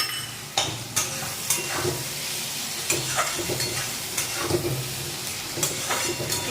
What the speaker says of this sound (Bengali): জাস্ট একটু নাড়াচাড়া করবো, করে একটু নুন দেবো।